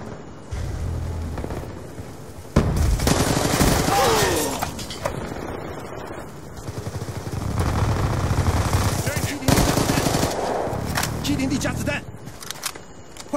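MSMC submachine gun firing in Call of Duty Black Ops 2 Hardpoint multiplayer on Xbox 360, loud rapid bursts of gunfire with explosions and in-game effects, repeated several times under someone talking.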